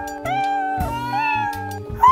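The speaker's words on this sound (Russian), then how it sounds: "Так эти коты еще и кричат." Several cats in a children's cartoon yowl and meow loudly in overlapping, drawn-out wails, rising and falling in pitch, close by with no talking.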